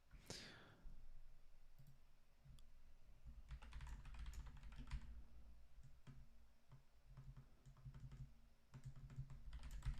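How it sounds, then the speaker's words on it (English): A loud computer keyboard being typed on, quick bursts of clicky keystrokes in irregular clusters, faint and close, with a low background hum. "I feel like I have a kind of loud keyboard"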